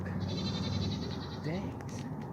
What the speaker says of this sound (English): There's a freaking goat back there.